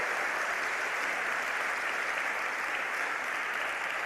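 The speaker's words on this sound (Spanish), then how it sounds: "Dale un aplauso" A church congregation applauds during a sermon, a steady wash of many hands clapping together at moderate distance, with no speech over it.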